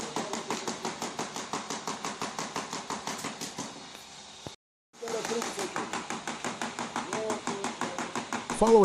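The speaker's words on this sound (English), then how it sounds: "this hydraulic shear shines. Designed for slicing wooden slats into crate-length pieces" A hydraulic shear slices wooden slats into crate-length pieces, giving steady, evenly spaced sharp chops in a fast rhythm, briefly stopping near the middle before resuming just as regularly.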